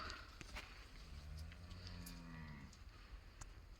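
A cow on a farm gives one long, low moo, faint and somewhat distant, with a few light knocks and clatters around it.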